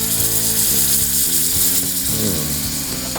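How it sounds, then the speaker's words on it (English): Steady sizzling and crackle of butter melting in a hot pan over a fire, with a continuous hiss and occasional sharper pops, close up and no talking. "It's been sizzling on the fire. I'm just gonna go with a stick of butter."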